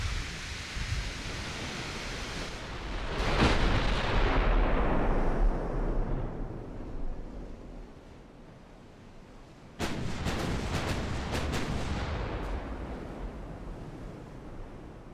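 Battleships firing naval artillery in Ultimate Admiral: Dreadnoughts, with booming salvos over a constant roaring sea-like wash and a sharp new volley partway through, with no talk.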